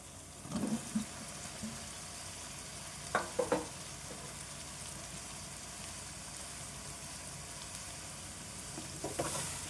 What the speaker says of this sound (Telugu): ఇప్పుడు ఇందులోన మనం సొరకాయ ముక్కలు వేసుకుందాము.